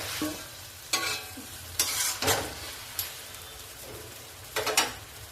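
Spice masala with tomatoes frying in a pot for bhuna chicken, a soft continuous sizzle broken by a handful of loud, scraping stir strokes spaced about a second apart, close and without any talk.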